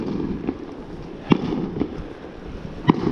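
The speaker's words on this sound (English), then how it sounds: "You can hear the fireworks." Fireworks pop in China, a handful of sharp distant bangs scattered irregularly over a steady low outdoor rumble, with no voices.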